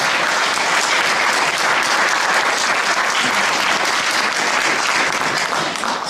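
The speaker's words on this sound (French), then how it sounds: "on peut l'applaudir, le fils de Marwan" Loud, sustained audience applause in a hall welcoming a guest, dense continuous clapping from a large crowd with no talk over it.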